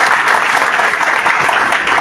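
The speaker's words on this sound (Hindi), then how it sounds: "आपसे मुखातिब जोरदार तालियों से स्वागत करते हैं" Loud, steady applause from a crowd at a political rally in India, continuous dense clapping welcoming a speaker, with no talk over it.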